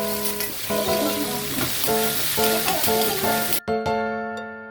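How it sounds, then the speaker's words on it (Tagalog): Vegetables sautéing in a pan for a home-cooked dish, a steady close sizzle with stirring scrapes and clinks, background tones running under it, ending in a brief cut and a few sharp clatters. "Habang nagigisa nga ako mga mima ko,"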